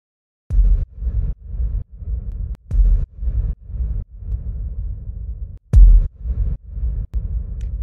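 Deep, muffled bass thumps pulse in a rhythmic pattern, reverb modulated by an LFO, each swelling and fading with a washed, throbbing tail, loud and without voices.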